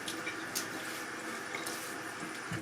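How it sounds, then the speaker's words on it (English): Tap water runs and splashes as it is scooped onto the face during pre-shave prep for a single-blade shave, a steady close wash of flowing water with no talking. "I will take a moment and put a little more water on my face."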